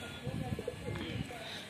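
Pigeons coo softly in a loft, low throaty burbling calls repeating in short bursts under a quiet background hum.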